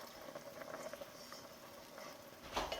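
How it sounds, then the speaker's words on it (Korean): Meat simmering in a pot of water for a stew makes a quiet, continuous bubbling with soft patter, and a brief louder clatter near the end. "뒤집어주고 20분만 끓이고 꺼도 될 것 같아요"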